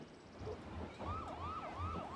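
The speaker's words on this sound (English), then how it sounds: "all of a sudden there's just like a lot of sirens" Police sirens wail in the distance, rising and falling in a repeating sweep, faint behind a quiet indoor scene with no talking.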